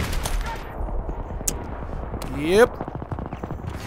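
Rapid automatic gunfire in Battlefield 3 on PC, on the Karkand map, crackling as dense repeated shots across the whole stretch, with a brief swelling burst near the end and a short spoken word.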